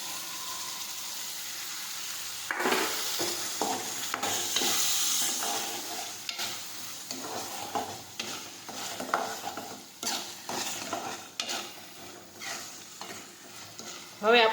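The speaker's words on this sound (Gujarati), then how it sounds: "હવે આપણે તેમાં બાફેલા અડદ નાખી દઈશું." Boiled green urad beans cook in a thick gravy in a pan, giving a steady sizzle, with frequent spoon stirs and scrapes close by and a short clatter at the end.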